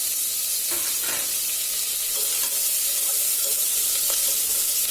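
Loud, steady sizzling of shallots, onions and tomato frying in a hot pan, with a few faint stirring scrapes, continuous and close, no voices.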